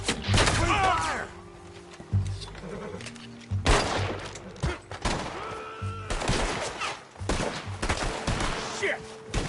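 Red Dead Redemption 2 gunfight: repeated loud gunshots crack out in uneven bursts, some in quick volleys, with shouted voices and game sounds in between.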